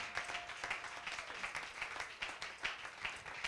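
A church congregation applauding together, a steady wash of many hands clapping that holds at an even level throughout, with no voices standing out.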